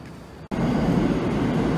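After a brief cut, a loud rumbling rush of a Tokyo Metro Ginza Line train arriving at Shibuya station swells in and holds steady, filling the space with low roar and hiss.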